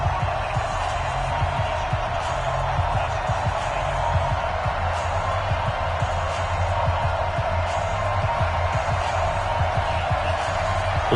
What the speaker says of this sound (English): this crowd is ready as their guys get set to match up between the Atlanta Falcons and the Kansas City Chiefs